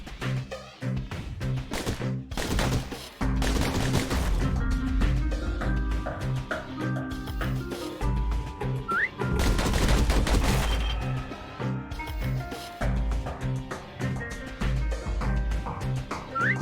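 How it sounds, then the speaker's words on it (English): Rapid pistol fire in the video game Bastion, with quick bursts of gunshots over a steady musical soundtrack, alternating with quieter stretches. "Those pistols could spit out rounds just as quick as you could pull the trigger."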